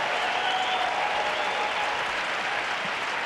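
A crowd applauds steadily at a US Open tennis match in 2019, a dense, even wash of clapping from a large stadium audience that holds for several seconds with no talk over it.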